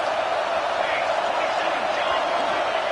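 A football stadium crowd roars steadily in support of the defense before a big third down, a dense, continuous wall of cheering with no break.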